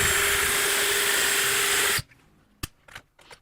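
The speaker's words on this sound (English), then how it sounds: "Then I'll open that up for the clearance drill for the screw." Clearance hole for a screw drilled through metal for a seat mount, a loud continuous whirring drill for two seconds that cuts off sharply, followed by a few light knocks and handling sounds.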